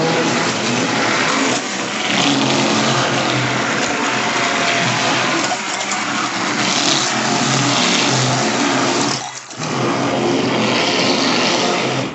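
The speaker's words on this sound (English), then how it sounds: "I'm not going to apologize for the noise that you hear with the mixer" An electric mixer runs loud and continuous as it blends oatmeal and turmeric soap, a close, dense whirring drone that dips for a moment near the end before resuming.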